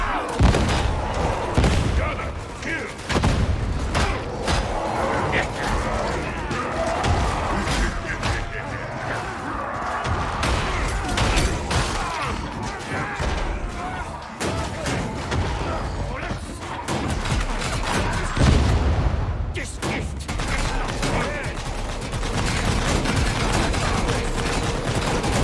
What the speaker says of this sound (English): God, they won't stop shooting.